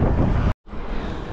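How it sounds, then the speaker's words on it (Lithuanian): Wind blows outdoors in the mountains, a steady rushing roar against the microphone that cuts out for a moment before resuming more softly. "Vėjas dar šiek tiek."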